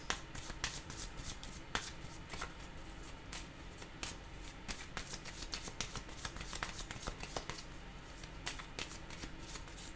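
Tarot cards are shuffled close by with quiet, continuous riffling and flicking. Soft card snaps repeat throughout, with no voice.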